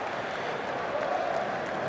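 Broad, steady applause from a stadium crowd in the cricket video game Cricket 19 during an England vs Pakistan Test match, a continuous wash of clapping with no pause.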